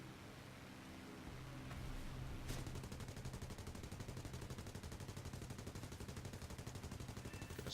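Rapid sustained machine-gun fire from American .50 caliber guns in the War Thunder air combat game, a dense continuous rattle starting after a short lead-in of engine drone and continuing loud to the end.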